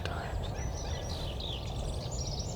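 Wild Rio Grande turkeys gobbling in the distance, faint repeated calls over steady outdoor background noise, with other birds chirping higher up.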